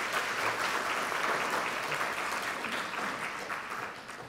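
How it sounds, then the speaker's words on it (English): Sustained applause from a conference audience at a scientific meeting on ageing, dense steady clapping that holds throughout and slowly fades toward the end. "So please give yourself a big round of applause."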